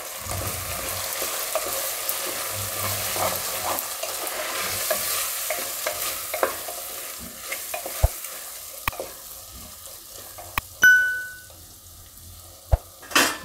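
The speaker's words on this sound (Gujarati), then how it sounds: "ધાણા જીરું નાખી દેવું ને લાલ મરચું નાખી દેવું હવે આને મિક્સ કરી લઈએ" Lilva khichdi in a pan being mixed with coriander-cumin powder and red chili powder: continuous close stirring and scraping over a soft sizzle, with sharp utensil clicks and a ringing clink near the end.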